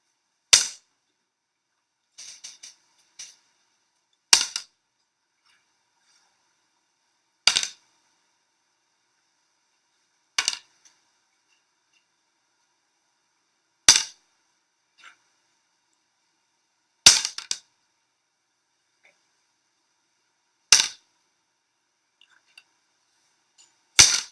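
Cubes dropped one at a time into a basket in a classroom, heard as eight sharp, separate clacks spaced a few seconds apart, with a few fainter rattles between them and near silence otherwise.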